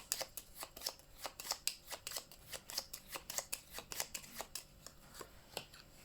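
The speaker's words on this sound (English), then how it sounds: "Alright, shuffling." Cards for the board game Glass Road being shuffled by hand, a steady run of quick crisp riffling bursts, close and fairly quiet, with no talking.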